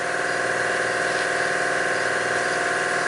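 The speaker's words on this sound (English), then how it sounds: "Sorry about the compressor noise." A steady, droning air compressor hum with a rapid pulsing chug, continuous and even throughout, running nearby in a garage during fuel pump work on a 2005 Chevy Avalanche.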